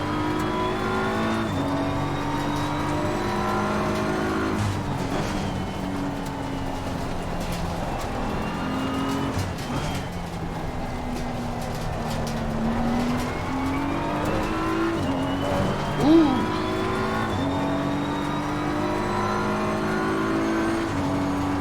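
A BMW race car engine in a racing video game, revving loudly and steadily through gear changes with rising and falling pitch sweeps, close and continuous, with a brief tire squeal near the end and no talking.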